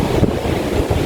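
Steady wind buffeting across an open beach, a continuous low rumble and hiss with surf-like washes, no voices.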